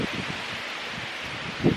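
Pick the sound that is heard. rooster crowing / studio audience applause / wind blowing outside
wind blowing outside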